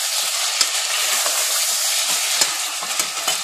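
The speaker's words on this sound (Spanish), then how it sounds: "Empezamos friendo la carne." Meat, pork ribs for a stew, frying in a pan with a loud, steady, close hiss of sizzling oil and occasional stirring crackles, with no talking.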